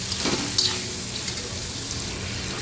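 Tomatoes with salt fry in a pan with a steady, even sizzle and a brief scrape or two of a spoon stirring near the start, close and without talk.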